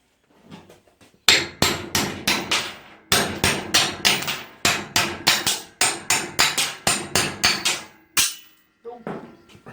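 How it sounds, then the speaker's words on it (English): Rapid hammer blows ring out in long runs as wheel studs are driven from a 2006 Mazda Axela rear hub, loud, close and metallic, with short pauses between the sets of strikes. "let's go and hammer these studs out"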